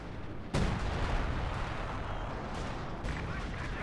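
leFH 18 howitzer artillery firing in Company of Heroes 2, a sharp heavy boom near the start followed by sustained rumbling battle noise and a couple of further distant shots.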